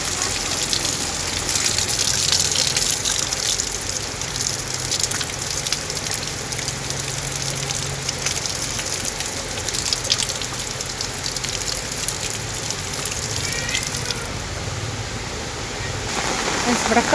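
Rainwater gushes over a village road in Kerala, a constant wet rushing wash with pattering drops, steady and moderately close throughout.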